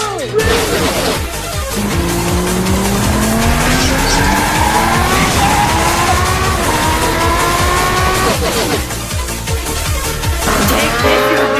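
Race cars roar along at a steady loud level, rising engine tones layered with sharp tire squeals and skids throughout, the pitch climbing repeatedly as they accelerate.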